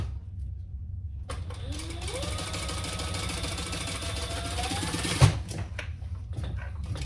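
Sewing machine basting a crossbody bag, starting after a quiet second with a rapid mechanical needle clatter running steadily for about four seconds, then a thump and a few lighter clicks as it stops, close and moderate in level.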